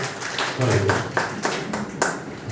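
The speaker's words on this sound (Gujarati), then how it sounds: "એમના માટે સબ જોરદાર તાળી થઈ જાય" An audience at a community meeting breaks into a short burst of clapping, several uneven claps of hands over a couple of seconds, fairly close, with a room murmur behind.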